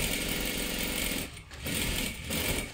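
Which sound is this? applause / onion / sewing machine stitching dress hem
sewing machine stitching dress hem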